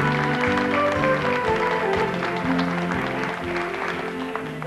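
Studio audience applause on a Spanish television variety show greeting a singer, a broad sustained wash of clapping with music and voices underneath.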